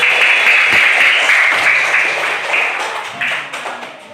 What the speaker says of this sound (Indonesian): Tepuk tangan dulu dong untuk Fatih